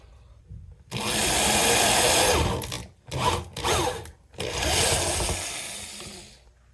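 A power drill drives screws into a guitar plate in several bursts: one long run, a few short stop-start pulses, then another long spin, close and loud.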